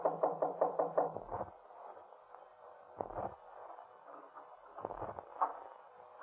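Knocking on a door in an old radio crime drama, heard as a quick run of about six sharp raps, then a few more isolated knocks with faint room noise between them.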